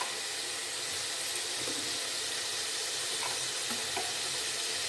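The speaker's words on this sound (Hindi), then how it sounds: "अब इसमें हम लहसुन अदरक का पेस्ट डालेंगे और इसको हम फ्राई कर लेंगे" Garlic ginger paste frying in a pan for a palak gosht, giving a steady, even sizzle that runs unbroken throughout with a few faint clinks on top.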